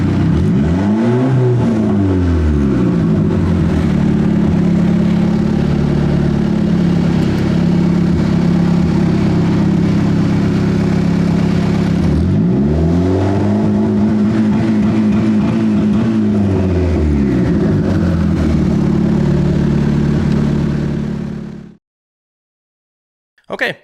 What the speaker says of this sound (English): Alright, go ahead and rev.